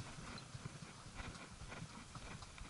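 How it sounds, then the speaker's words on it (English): Horse hooves clip-clop steadily on a rocky trail during a country ride in the Rio Grande National Forest, a continuous close rhythm of footfalls with a faint rustle of background noise and no talk. "You're such a good horse, Oreo."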